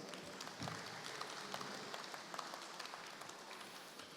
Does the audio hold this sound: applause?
yes